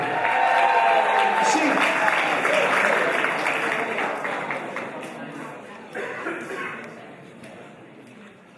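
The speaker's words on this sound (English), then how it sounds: "Give Mitchell a round of applause for some encouragement." Wedding guests giving a round of applause at a celebration: loud crowd clapping that starts full and gradually fades out, with a few brief voices and chatter over it.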